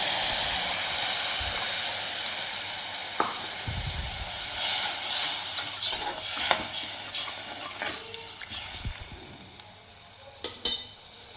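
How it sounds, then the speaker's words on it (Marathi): Tamarind water poured into frying masala paste for a Bombay duck curry, a loud steam hiss that fades as the paste is stirred, with scattered scrapes and clinks of the spoon against the pan, close up and without talk. "आपण आता हे चिंचेचं पाणी ह्याच्यामध्ये घालून घेऊया"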